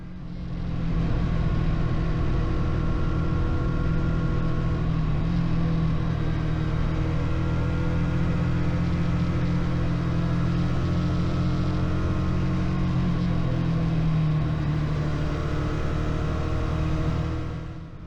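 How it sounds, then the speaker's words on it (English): A Benelli motorcycle engine pulls uphill in fifth gear, a loud, steady, continuous drone that holds almost unchanged for the whole stretch with no voices over it. "It's pulling very nicely up here in 5th gear on the Benelli."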